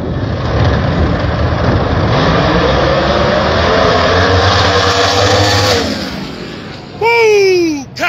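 No prep drag race cars rumble loudly at the strip, engines building into a sustained roar before launching, followed by a sharp rising rev sweep near the end.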